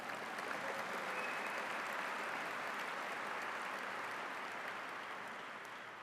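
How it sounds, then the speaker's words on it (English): An audience at a Boston Police Department academy recruit graduation ceremony gives sustained applause, a soft, even wash of many hands in a large hall that slowly fades toward the end. "somebody clap, thank you for that."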